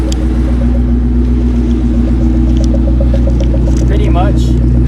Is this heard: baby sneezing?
no